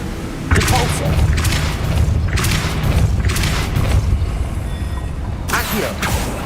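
Repulsor spells cast in Hogwarts Legacy land as a string of sharp whooshing bursts, four or five close blasts spaced about a second apart over a low rumble.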